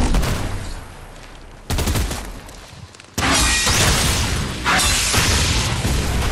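Sudden loud bursts of gunfire-like booms, a sharp one near 1.7 s and a sustained barrage from about 3.2 s onward, dense and close, with no talk over them.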